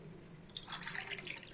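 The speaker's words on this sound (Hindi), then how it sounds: "अब मैं इसी कप से 6 कप पानी इस पर डालूंगी" Water poured from a cup onto sugar in a pan, for sugar syrup in a kitchen: a brief, close trickle and splash lasting about a second, with no talk.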